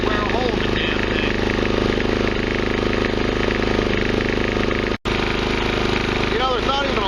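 A Westinghouse iGen 4200 generator running without load during break-in hums loudly and continuously at close range. The engine speed audibly surges up and down, and one very brief dropout interrupts the drone.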